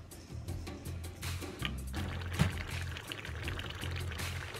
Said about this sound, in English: let us allow it to boil for some more time